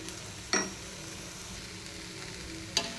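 An egg omelette fries in oil until golden brown, a low steady sizzle close by, punctuated by two sharp clinks of a utensil against the pan, with no talking.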